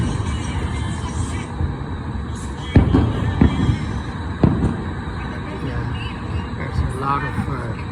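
Fireworks bursting over New York City shortly before the Fourth of July: a few sharp booms stand out over a continuous rumble of city and crowd noise, with a voice talking underneath.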